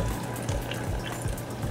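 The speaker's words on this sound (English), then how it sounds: "I'm just about to put 150 ml of water" Hot water pours from a kettle into a measuring jug, about 150 ml for a whey and oats porridge, making a steady, close, continuous trickling splash with no talking.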